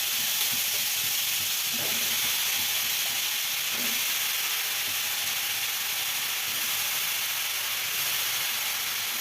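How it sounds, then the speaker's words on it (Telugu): Brinjal pieces sizzling in hot oil in a pan, a loud, dense, continuous hiss that holds steady throughout, close up and alone, with a few faint clinks underneath. "ఈ వంకాయ ముక్కలు నూనెలో వేసుకోండి"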